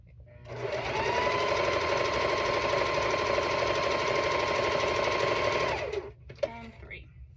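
A sewing machine chain stitches quilt pieces in one long, steady, close run of rapid needle clatter that stops abruptly near the end. A faint voice follows.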